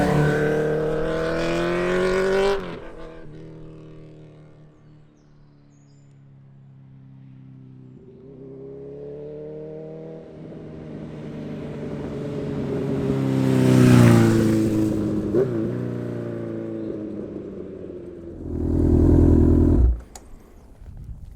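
Honda CB1000R fitted with an Akrapovic full exhaust system revs hard and loud, with rising and falling engine sweeps, a big peak in the middle and a final sharp blip before cutting off.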